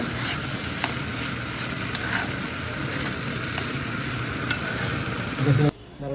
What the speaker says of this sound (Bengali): এই তো এদিকে খোলা বাগার দিচ্ছে